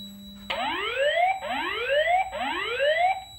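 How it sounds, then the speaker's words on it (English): A Simplex fire alarm voice evacuation system sounds its whoop tone, three rising sweeps in a row that are loud and close over a steady electronic hum, with no speech. "we'll go ahead and activate the Simplex 425120, and you will hear the system in action"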